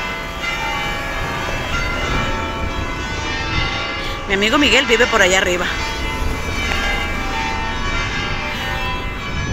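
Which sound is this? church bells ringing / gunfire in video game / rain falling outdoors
church bells ringing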